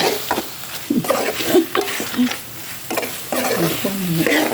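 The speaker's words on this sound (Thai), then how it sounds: "คั่วหอมเลยแล้วก็คั่วต่อนะคะคั่วหมูนะคะ่เป็นคั่วหมู" Pork is stir-fried in a pan for a Thai curry, with scraping stirs and soft sizzling close by while someone talks over the cooking.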